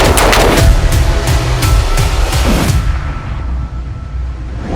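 A rapid series of sharp, loud shots from a 7.62 calibre civilian carbine cracks out close by, about a dozen evenly spaced reports, then abruptly stops, leaving a quiet ringing tail.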